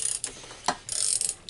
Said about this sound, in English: Crack all the bolts loose.